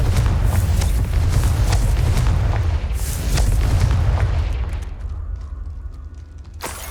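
In the Hogwarts Legacy video game, a Confringo blasting spell sets off a loud, rumbling explosion that holds heavy booming energy for several seconds before tapering into a quieter crackling tail, ending in a sharp burst.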